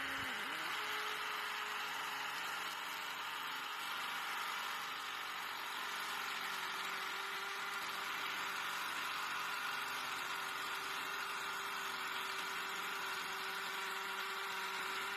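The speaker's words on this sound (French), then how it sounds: "Maintenant, je décide de tester le mode percussion." A DeWalt DCD709 hammer drill runs in percussion mode with a 12 mm bit, giving a continuous steady buzzing drone throughout. The hammering rattle stays even and fairly loud, with no talk.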